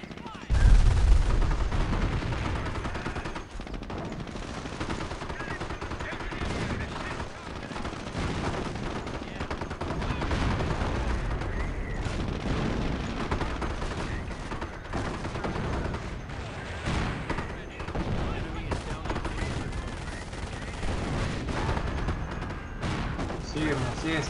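Continuous artillery fire and rattling gunfire in Company of Heroes, a dense battle din of booms and bursts lasting throughout, with a voice speaking over it at times.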